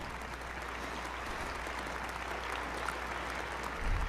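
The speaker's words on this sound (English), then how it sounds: "Let's give a big round of applause." A church congregation at an international Sunday service applauds, with dense even clapping filling the room at a moderate distance, steady to the end, with a low rumble creeping in at the close.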